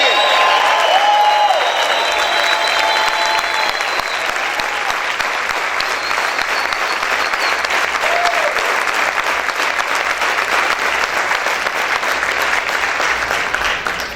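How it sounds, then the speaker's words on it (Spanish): A church congregation claps and shouts loudly in praise, dense sustained applause with cheering voices that carries on for the full fourteen seconds. "Acá pueden gritar y aplaudir fuerte de Rey."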